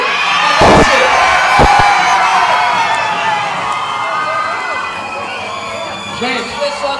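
A crowd of supporters cheers and shouts loudly at a lively event, a sustained roar of voices with a few sharp bangs early on, fading slightly toward the end.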